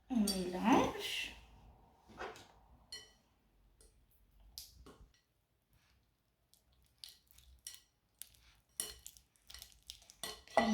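Butter being mixed in a large bowl with a spatula for chocolate chip cookie dough, giving soft scraping and clinking utensil-on-bowl sounds in bursts, loudest at the start, with a voice talking over parts of it.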